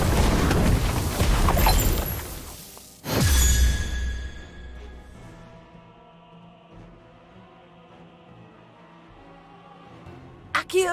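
An Incendio fire spell cast in the video game Harry Potter: Magic Awakened, a sudden loud whooshing burst after a busy stretch of game sound, trailing into a long, quiet ringing decay.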